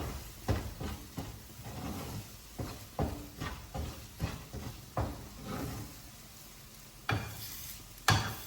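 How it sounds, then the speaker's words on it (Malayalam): Potato cutlet mixture being stirred and mixed with bread crumbs, a run of irregular scraping and thudding strokes, fairly close, with a couple of sharper knocks near the end; no speech. "എല്ലാം നല്ലപോലെ ഒന്ന് മിക്സ് ചെയ്യുക."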